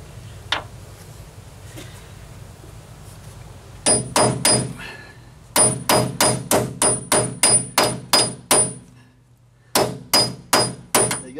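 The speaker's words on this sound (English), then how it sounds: "you hit it with a hammer to get the teeth to bite into the bolt" Sharp metallic hammer strikes on a bolt extractor socket, a couple of bursts of rapid evenly spaced blows with brief pauses between, close and loud.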